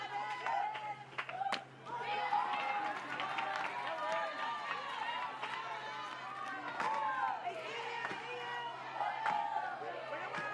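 Softball crowd at Marita Hines Field during an Oklahoma versus California college game, a steady murmur of chatter and scattered claps with a few sharp knocks, heard under a commentator's voice.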